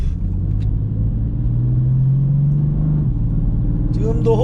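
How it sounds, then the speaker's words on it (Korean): A BMW F82 M4 pulls hard on a wet, rainy road under near-full throttle, its engine a steady low droning rumble with a rising tone before a gear change, heard from inside the car. "지금 가속 페달을 밟고 있습니다."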